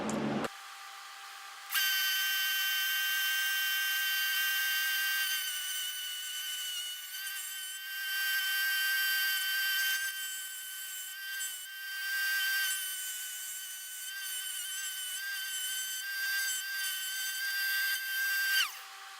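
A steady, high-pitched metallic whine of cutting copper tube runs for many seconds, close and continuous, wavering slightly in pitch, with no talking.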